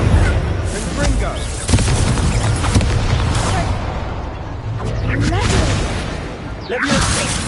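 Spell blasts and whooshes from Hogwarts Legacy combat, including the Confringo blasting spell, going off repeatedly in a busy, loud mix with voices calling out between hits.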